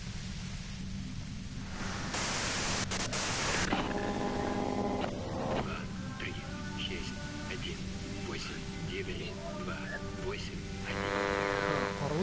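Static hiss from a device in the video game Disco Elysium, a steady broadband noise running throughout with tonal game sounds and a voice talking over it.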